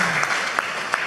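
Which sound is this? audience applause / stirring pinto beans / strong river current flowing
audience applause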